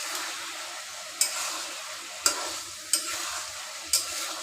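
A fish head cooks with Malabar spinach in a pan, a soft steady sizzle broken by four sharp scrapes of a stirring utensil against the pan, close and quiet, with no speech.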